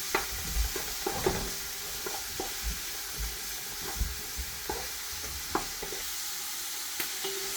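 Onions fry in a large pot for a big batch of pasta bolognese, a low sizzle under repeated sharp knocks and scrapes of a spoon stirring at an uneven rhythm.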